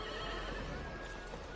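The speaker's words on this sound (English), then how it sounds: "A little horse and cart" A horse hitched to a custom-built cart neighs in a video game, a steady whinny over a continuous dense background with faint hoof clip-clop, no talking.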